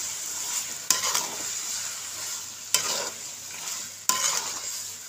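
Pepper chicken gravy sizzling in a pan while a spoon stirs it, three sharp clanks of the utensil against the pan standing out over the steady frying hiss, heard up close without speech.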